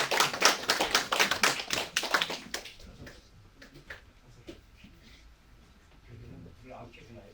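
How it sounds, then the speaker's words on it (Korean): A small gathering at a Gangneung election campaign office opening claps to welcome the candidate, a short burst of close applause lasting a couple of seconds before fading into quiet room noise and faint voices. "우리 예비후보님 다시 한번 박수로 모시겠습니다."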